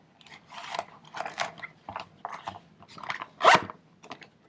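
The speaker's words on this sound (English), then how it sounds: "Zip it up." A zipper rasps closed on a Magpul DAKA pouch holding a Glock 26 in a DeSantis holster, a run of close, scratchy pulls and bursts with one louder tug near the end.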